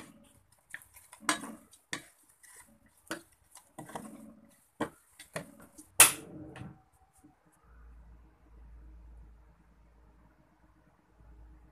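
Fish being tossed with turmeric powder and salt in a bowl gives a run of close clinks and soft scraping stirs for about six seconds, ending in one sharp clatter, then near silence with a faint low hum.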